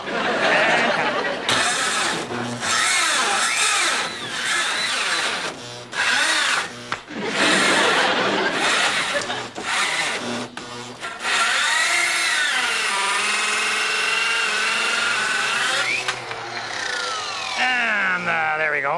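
A power tool saws through wood, a loud continuous buzzing cut with brief dips as the blade binds and restarts, running close and harsh for most of the clip.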